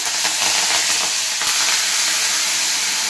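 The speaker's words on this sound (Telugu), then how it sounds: "పోపు వేగిపోయింది. ఇందులో కరివేపాకు వేసుకొని" Curry leaves drop into hot oil tempering with green chillies and salt for a bottle gourd and milk dish, giving a loud, dense, continuous crackling sizzle close by with no voices.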